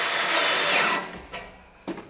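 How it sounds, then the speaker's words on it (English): Power drill driving a Tek screw slowly into a steel panel for a raised garden bed: a loud, steady whine for about a second, then winding down to quieter whirring and a sharp click near the end. "Now the thing is to put some pressure on and drill slowly."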